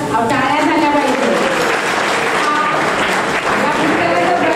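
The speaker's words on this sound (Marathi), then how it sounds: "टाळ्या झाल्या पाहिजे." Crowd applause at a book publication event, steady clapping filling the whole stretch at high loudness, with voices mixed in underneath.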